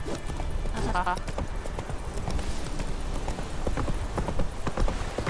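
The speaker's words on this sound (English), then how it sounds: "Come on, horse." Rhythmic hoofbeats of a galloping horse in a video game, steady and close, with a brief whinny-like sound early on.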